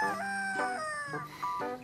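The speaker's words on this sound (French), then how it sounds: "Ah mais bordel, mais jamais il se tait ce coq." Rooster crowing close by, a loud drawn-out cock-a-doodle-doo with rising and falling harmonic calls, followed by a second shorter crow, with no talking over it.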